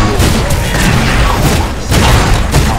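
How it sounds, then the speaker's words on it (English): Heavy explosive crashes and booming impacts roll through continuous loud game combat as an enemy tower is destroyed in the MOBA Predecessor, a dense wall of blasts and clatter without letup. "Enemy tower destroyed."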